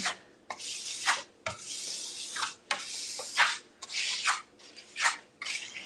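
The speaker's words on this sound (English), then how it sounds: "You can see how I'm really not wiping my trowel. I'm just kind of moving it around." A trowel spreading Venetian plaster across a wall, up close, with repeated scraping, smearing strokes in uneven bursts separated by brief pauses.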